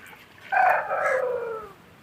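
A single drawn-out call from a native country chicken, loud and close, rising then trailing off over about a second against a quiet background.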